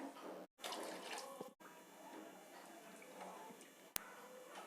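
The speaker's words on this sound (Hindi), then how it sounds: "इसमें हम आधा गिलास पानी का और डाल देंगे" Water pouring steadily into a pot of sambar for several seconds, a continuous splashing rush with a sharp click near the end.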